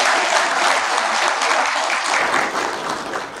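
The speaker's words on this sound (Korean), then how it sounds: "큰 박수 부탁드립니다." Loud, sustained applause from a crowd at a Sinan County fisheries business managers' rally, a dense wash of clapping that holds steady and then eases slightly near the end.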